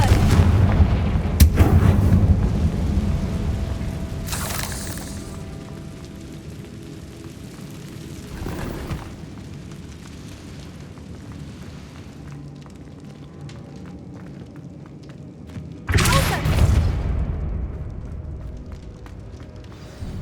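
Confringo spell explosions in the Hogwarts Legacy video game boom loudly and repeatedly, several heavy blasts spread out over a low, rumbling background.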